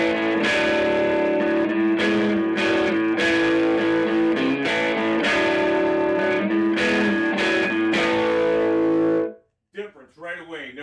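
Electric guitar played through a Fender Blues Jr amp with gain, treble, bass, middle and reverb set at noon and master raised, loud driven chords with sustained ringing notes and rhythmic breaks, ending with a brief voice.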